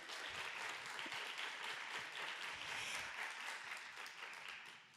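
Audience applause for an author's first book, a continuous wash of clapping that stays even before tapering off slightly at the end.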